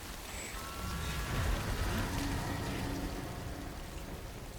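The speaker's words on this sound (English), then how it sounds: "The timefall makes the plants kind of grow and then die very quickly, don't they?" Timefall rain in Death Stranding falls steadily as a broad, even hiss of drops, close and moderately loud, with a faint tonal wisp near the start and no voices.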